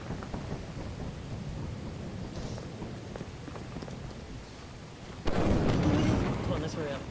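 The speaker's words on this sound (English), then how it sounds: "Lightning is loud." Loud thunder crack from a lightning strike in the video game Lethal Company, bursting in suddenly and rolling on over a steady rain-like background hiss.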